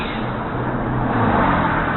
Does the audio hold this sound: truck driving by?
yes